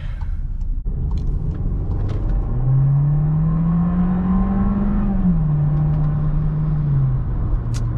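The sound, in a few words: compact sedan engine straining under acceleration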